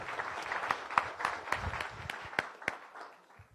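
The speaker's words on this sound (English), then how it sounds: "please join me in a round of applause for all of our visitors and guests" Scattered applause from guests and members at a Rotary Club weekly meeting in Las Vegas, a modest round of clapping with uneven individual claps that thins out toward the end.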